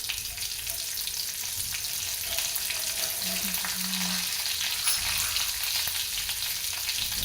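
Curry leaves fry in a pan for a drumstick stir-fry, giving a steady, dense sizzle that holds evenly throughout with no talking.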